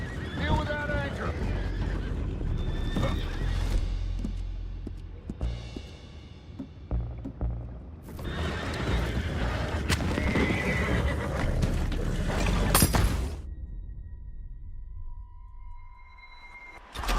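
Horses neigh and whinny in the Red Dead Redemption 2 game, several calls in a row with hoof clip-clop. Game dialogue and ambient music play over a steady rumble, and a sharp burst comes near the end.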